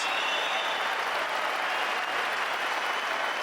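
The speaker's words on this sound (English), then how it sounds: "the crowd going quite crazy here" At a table tennis match of the 2017 German Open, the crowd applauds loudly and steadily with cheering, a dense, continuous wash of clapping that fills the whole stretch without a break.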